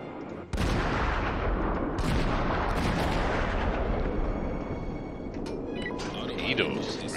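Main guns of the T4 US cruiser Phoenix firing in World of Warships: sharp booming salvos followed by rolling rumble, with someone talking over the battle noise.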